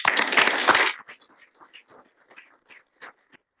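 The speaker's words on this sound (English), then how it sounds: "So we can give them a round of applause" Applause at a workforce development board meeting honouring retiring board members, a short burst of clapping lasting about a second that quickly fades into a few scattered claps.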